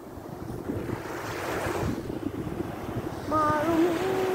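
Sea waves at high tide on Sinai Beach in Bulacan, a steady wash of surf with a swelling crash and wind noise over the microphone, with a brief tonal sound near the end.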